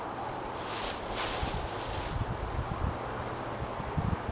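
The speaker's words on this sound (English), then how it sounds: "The wind's blowing about 15 miles an hour in gusts." Gusting wind around 15 miles an hour on a freezing 12-degree day outdoors, a soft broadband rush buffeting the microphone with low rumbles and rustle, fairly quiet and steady with slight swells.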